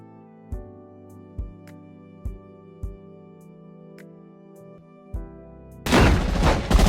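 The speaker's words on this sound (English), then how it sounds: "Shots fired on board." Gunfire from an action scene aboard Air Force One in the movie: a handful of sharp, booming shots spaced a second or so apart over a faint tonal score, followed by a sudden burst of dense, loud noise.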